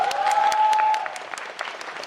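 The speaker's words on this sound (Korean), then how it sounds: "박수 부탁드릴게요" An audience in a cinema hall applauds actress Uhm Ji-won at a film talk event, giving dense, bright clapping that fades after about a second, with a sustained voice tone over the start.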